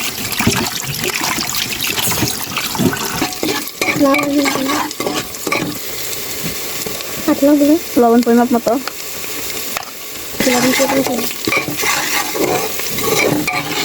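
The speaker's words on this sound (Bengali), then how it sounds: "পেঁয়াজটা লাল হতে হতে দিকে আমরা গরু গোস্ত দিয়ে নিচ্ছি।" Beef frying with onions, bay leaves and whole spices in a pot sizzles loudly and steadily, broken by repeated stirring scrapes and clatters of a spoon, while someone talks briefly over the cooking.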